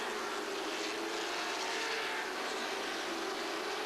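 NASCAR late model stock cars race at Southern National Speedway, a continuous loud roar of engines sustained without break, heard from a distance.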